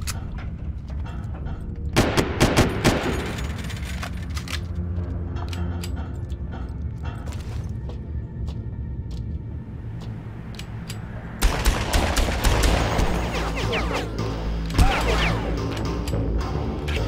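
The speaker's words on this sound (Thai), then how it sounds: "ใช้วิชาหลอกล่อไหมทำเสียงยิงปืนอ่ะ" Gunfire in the video game Far Cry, with bursts of shots and sharp impacts scattered across a steady noisy backdrop, growing denser and louder toward the end.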